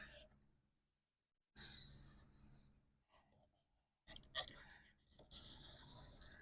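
A marker scratching out a line in a workshop, two bursts of dry rasping strokes with brief pauses between, faint and close, alongside soft breathy noises.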